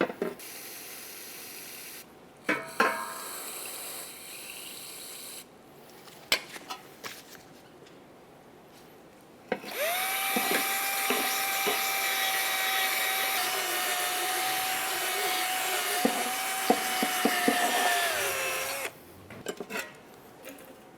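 A bore brush and parts cleaner scrub out the slider ports of a 2009-2010 Pontiac Vibe front brake caliper: scattered brushing and clicks, then a long steady hiss of spray with a whistling tone, tapering off near the end.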